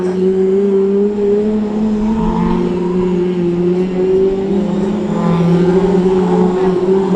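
BriSCA F2 stock cars racing at Cowdenbeath Racewall, a loud continuous engine drone with rising and falling revs as the field circulates, without talk.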